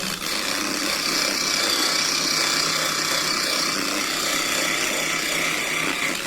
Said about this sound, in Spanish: volvemos a darle con la lija anterior